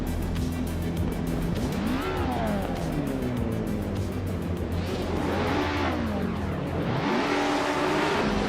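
AI-driven race cars, including a classic 1965 Cooper T77, lap Wakefield Park in a racing game, engines droning steadily with repeated rising and falling revs as cars pass close by, tyres squealing briefly.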